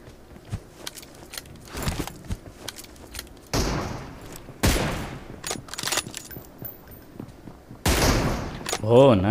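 M24 sniper rifle shots in a PUBG team deathmatch ring out as several spaced, loud, booming cracks with short decaying tails, mixed with lighter clicks and footsteps, while players talk over the action.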